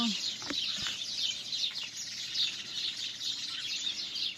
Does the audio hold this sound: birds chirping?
yes